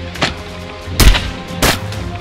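A Nerf toy gun fires three sharp pops spaced out over a couple of seconds during a playful Nerf war prank. The shots are loud and close against a quiet room.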